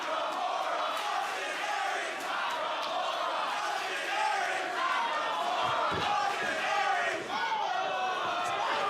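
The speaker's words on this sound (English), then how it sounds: "Very vocal crowd here inside the NXT arena." A loud, vocal wrestling crowd inside the NXT arena at Full Sail during an NXT TakeOver event, a dense roar of rhythmic chanting and shouting from many voices that fills the space continuously throughout.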